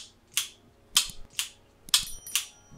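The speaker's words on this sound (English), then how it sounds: "that's the sound of a quick release." Quick-release fitting on an Ettore squeegee handle, clicking and snapping five times in quick irregular succession, sharp and close, with no talking.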